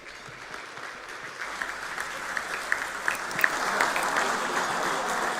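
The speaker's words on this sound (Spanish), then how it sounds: "Lo recibimos con un aplauso." An audience at an ADM business association event applauds to welcome a speaker, steady broadband clapping that builds slightly and stays moderately loud for the whole stretch, with individual claps poking out.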